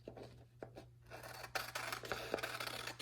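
Scissors snipping around the outside of paper shapes, a few soft separate snips early and then a denser, steadier run of cutting and rubbing noise, close and fairly quiet, with no talk.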